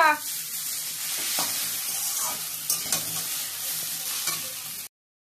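Chow mein stir-frying in a pan, a steady loud sizzle with intermittent scraping stir strokes, close up and without talk, cutting off abruptly near the end.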